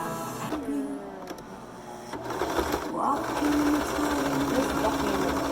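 A Singer Simple 3116 sewing machine stitches with a steady mechanical whir. Voices talk intermittently over it and a few light clicks come through.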